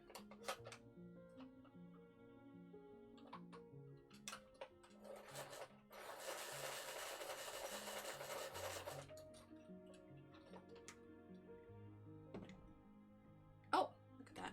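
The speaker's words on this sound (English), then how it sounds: "And I'm going to sharpen that just a little bit." Coloring pencil being sharpened by hand, a rough grinding rasp that swells for about three seconds, set among scattered small taps, ticks and handling noises at close range.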